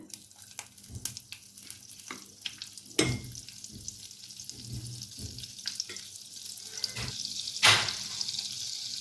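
Chicken pieces fry in butter in a pan, a soft crackling sizzle broken by sharp clinks and stirring scrapes, with a louder hiss near the end.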